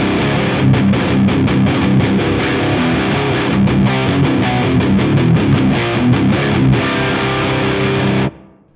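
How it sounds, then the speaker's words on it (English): A heavily distorted electric guitar on the bridge pickup plays through an Axe-Fx III Herbie Channel 2 Plus amp model with a cab and reverb, giving a thick, fuzzy, continuous wall of chugging chords that cuts off abruptly near the end. "I'll let you hear the stock Herbie Channel 2 Plus into this cab with this reverb on the bridge pickup of this guitar"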